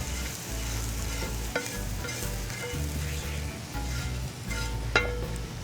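Chickpea flatbread batter is mixed in a bowl with a spoon, steady scraping and swishing strokes layered over a faint background sizzle, close and continuous with occasional sharper taps.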